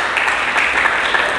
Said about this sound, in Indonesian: Mari kita berikan tepuk tangan bagi Yesus Kristus Tuhan.